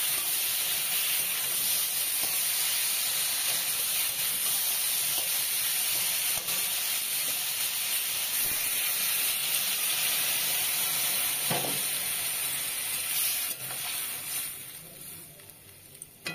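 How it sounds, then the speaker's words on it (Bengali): Water lily stems stirred and cooking in a pan with spices, a steady close hiss and sizzle running for most of the stretch with occasional scrapes, fading off near the end, no talking. "দেখো শাপলাগুলো দিয়ে একটু নেড়ে নেব,"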